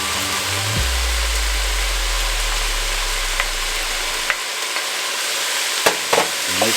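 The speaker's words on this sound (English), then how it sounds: "Just to saute this up." Onion, garlic and celery sautéing in a pot for beef minestrone soup, a loud, continuous frying hiss with a low hum that fades out, then a few sharp utensil clicks and scrapes near the end, with no voices.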